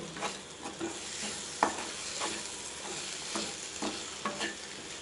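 Sautéed tomato, onion and lentils for an ivy gourd chutney are stirred in a pan. A quiet, continuous sizzle carries soft, rhythmic scraping strokes of the spoon, with no talking.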